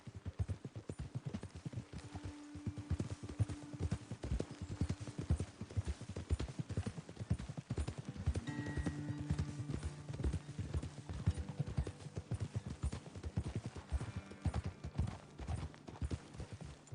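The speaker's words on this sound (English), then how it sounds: "Best leave the horses back a bit." Horse hooves clip-clop steadily and close in the Red Dead Redemption 2 video game, a continuous rhythmic trot of several horses over roughly seventeen seconds with faint game music tones beneath.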